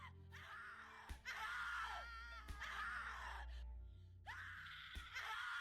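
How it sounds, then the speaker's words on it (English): Repeated anguished screaming from the horror game The Cat Lady, several drawn-out wails separated by sharp thuds, loud and close with nothing else over it. "Scream louder, little bitch. Scream your lungs out."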